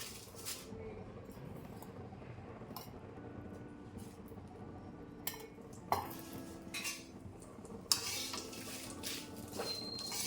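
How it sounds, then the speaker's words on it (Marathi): Bay leaves are lightly roasted in a pan while a utensil stirs and scrapes them, giving soft irregular clinks and scraping knocks against quiet background noise. "हा तेजपत्ता आहे तेजपत्ता हलकासा भाजून घेते"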